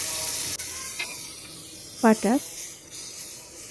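Two pieces of butter sizzle in a frying pan with a steady, fairly quiet hiss and crackle, and a voice briefly speaks over it.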